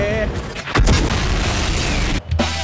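Heavy booming tank cannon blasts from a tank combat video game, loud and close, with a broadband burst near the middle and another sharp report near the end, over continuous game rumble and someone talking.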